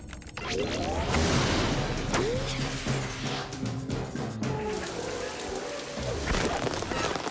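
Cartoon rain conjured by a micro air conditioner, a dense steady downpour pattering on surfaces with rumbling thunder-like crashes and whooshing effects, loud and continuous.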